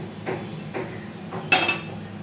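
Butter garlic chicken is served from a pan into a dish, giving a few separate metallic scrapes and clinks of a spoon against cookware, close and fairly quiet, with the last clink the sharpest.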